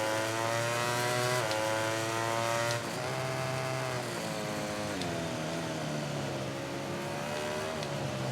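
A MotoGP motorcycle in MotoGP 18 drops through engine braking and then accelerates, its steady high-pitched engine whine stepping down and climbing again, close and continuous.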